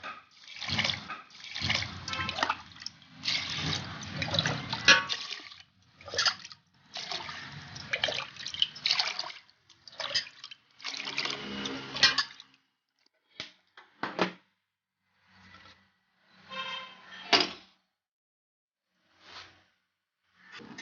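Water splashes and pours into a pot of raw rice and split moong dal in bursts with short pauses, a close, hollow liquid sound that fades to quiet gaps near the end.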